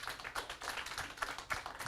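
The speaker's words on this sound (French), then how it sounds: "On l'applaudit, s'il vous plaît." Sparse clapping from a small audience welcoming a student contestant at a school French eloquence competition, a few distinct hand claps in uneven rhythm, fairly quiet.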